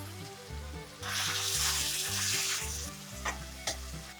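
Finely chopped potatoes frying in hot oil with turmeric and red chili powder, a loud close sizzle that surges as they are stirred, with a low rhythmic rumbling underneath and a couple of sharp utensil clicks near the end.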